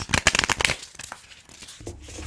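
Quick riffling rustle of new playing cards being shuffled up close, a dense burst of crisp flutters followed by quieter soft handling.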